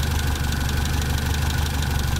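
A car engine idling steadily at about 720 RPM on Bosch spark plugs, a continuous close, even low rumble with a faint rhythmic knock and no breaks.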